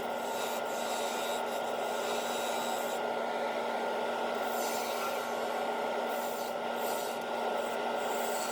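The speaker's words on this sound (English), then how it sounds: "using the diamond parting tool to make the recess" A diamond parting tool cuts a recess into wood spinning on a lathe, giving a steady, loud, continuous rasping whir with a constant motor hum underneath, unbroken for the whole stretch.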